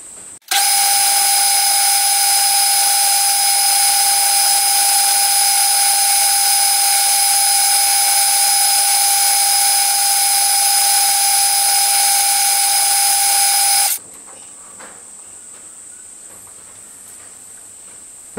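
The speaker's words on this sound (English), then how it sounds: "I'm going to turn this section down to its correct dimension and then try and blend the taper in" A metal lathe turns down a connecting rod for a Stuart Turner Number 8 mill engine, a loud steady high-pitched whine held for about thirteen seconds before cutting off abruptly to a quiet hum.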